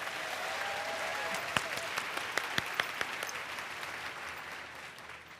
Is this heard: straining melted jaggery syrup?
no